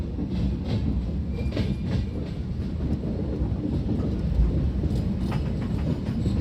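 The 12772 Raipur–Secunderabad SF Express running in the Train Simulator game, a steady low rumble with faint rhythmic clickety-clack and light wheel squeal, continuous and without talking.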